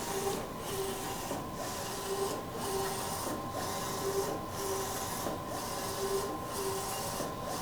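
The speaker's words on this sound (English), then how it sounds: "Just hit print to send it to the printer." A DTF printer prints a design with a steady mechanical whir and hiss. A rhythmic sweep recurs roughly every second as the print head travels back and forth, close and continuous with no talk.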